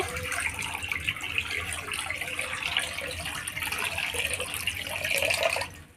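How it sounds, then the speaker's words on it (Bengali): Water runs steadily from a tap into a pot for rasgulla sugar syrup, a continuous close splashing stream that fills the whole stretch and cuts off abruptly at the end. "এবার এই রসগোল্লার শিরা বানানোর জন্য প্রথমে জল দিয়ে দেব।"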